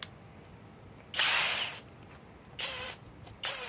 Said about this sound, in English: Now, let's go with the Flex FX1472B 3/4 inch with the same 6 amp stack lithium.